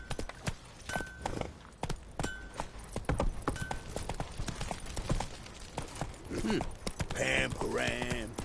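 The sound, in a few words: horse galloping in the video game Witcher 3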